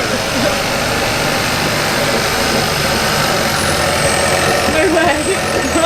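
A Kia Ceed GT engine idles smoothly without misfiring, a continuous rumbling drone close to the microphone, while a person talks over it.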